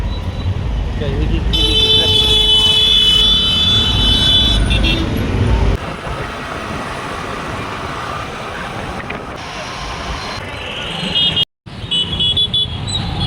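Continuous road traffic in Solapur rumbles close by while car horns toot in long, repeated blasts, with people talking at times.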